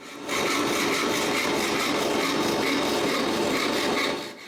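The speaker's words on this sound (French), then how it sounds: "Je commence par la scie japonaise." A Japanese hand saw rasps steadily through wood in quick back-and-forth strokes, loud and close, with no voices.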